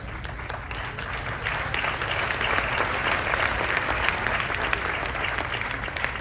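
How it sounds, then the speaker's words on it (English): Sustained applause from a large crowd of about five hundred at an exclusive business event in Italy, a dense, even roar of clapping that swells slightly and holds steady throughout. "One applause."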